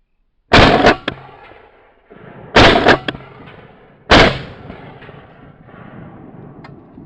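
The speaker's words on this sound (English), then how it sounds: "Just a really nice shooting little small bore shotgun." A TriStar Viper G2 .410 bore shotgun fires three sharp, loud, close shots spaced about two seconds apart, each with a short decaying echo, and no talking.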